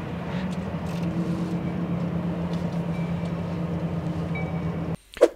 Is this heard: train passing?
yes